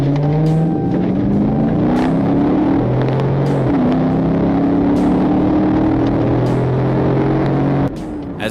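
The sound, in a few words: Nissan speeding off in police chase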